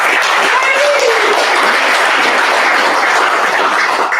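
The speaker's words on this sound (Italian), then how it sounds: "Quindi un applauso anche per Dalila." A crowd at the official presentation of the Itas Città Fiera Libertas Martignacco 2020/21 team applauds loudly and continuously, with a voice briefly audible over the clapping near the start.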